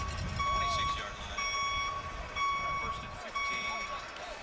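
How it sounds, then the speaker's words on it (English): Truck reversing beeps played as a sound effect over the stadium PA at a high school football game, a steady series of evenly spaced electronic beeps under crowd noise and talk. "They've brought in the backing of a truck sound effect to accompany the penalty."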